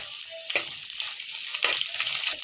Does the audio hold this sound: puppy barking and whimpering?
no